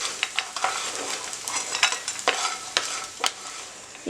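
Ingredients sizzle in a pan while being fried for rice bran laddu, with a steady close crackle and frequent scraping stirs of a spoon across the pan.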